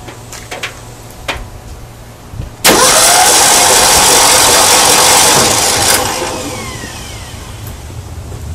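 The engine of a 1972 Ford Bronco cranks on its starter with a sudden loud, steady mechanical whir that holds for a few seconds and then eases off, preceded by faint clicks and handling noises.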